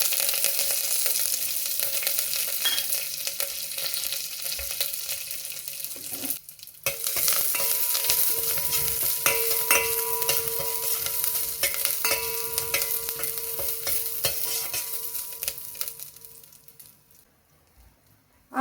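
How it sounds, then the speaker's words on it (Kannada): Curry leaves and garlic frying in hot oil for tomato saaru, a steady loud sizzle with stirring scrapes throughout, briefly cut off near the middle before fading out at the end. "ಆಮೇಲೆ ಕರಿಬೇವು ಹಾಕ್ತಾಯಿದ್ದೀನಿ"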